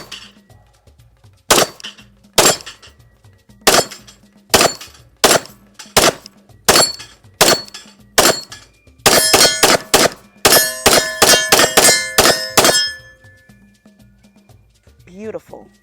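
A SIG Sauer DH3 pistol is fired at small steel plates outdoors. Each sharp shot is followed by a ringing metallic clang, first in evenly spaced single hits and then in a faster burst of rapid shots, loud and close.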